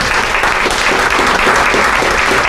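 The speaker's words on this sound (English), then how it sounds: "Can we give Brad Seaman another round of applause?" Loud, sustained applause from a luncheon audience for a speaker named Brad Seaman, a thick even wash of many clapping hands with no break.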